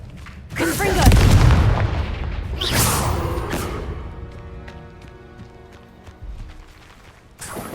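Confringo blast spell in the video game Hogwarts Legacy, one heavy booming explosion with a deep rumble, followed by a second blast and a fading ringing tail, with spoken incantation nearby.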